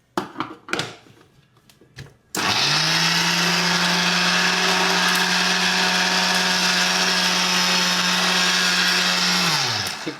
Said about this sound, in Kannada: ಯಾಕೋ ಮಿಕ್ಸಿ ಸರಿಯಾಗಿ ವರ್ಕ್ ಆಗ್ತಿಲ್ಲ